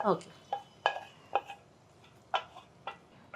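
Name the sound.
transferring roasted ingredients into a large vessel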